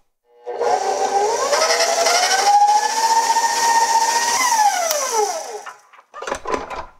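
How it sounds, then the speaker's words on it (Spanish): A stand mixer fitted with a balloon whisk beats a Paris-Brest dessert mixture at medium-high speed. Its loud motor whine climbs in pitch, holds steady for several seconds, then winds down, ending with a brief clatter. "Vamos a utilizar el aditamento Globo. Y vamos a empezar a batir a velocidad media alta"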